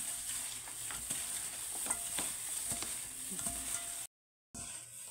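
Cucumber kimchi being tossed with carrots and green onions makes close, wet, squelching and crackling stirring noises that keep a steady, busy pace, broken by one brief silent gap.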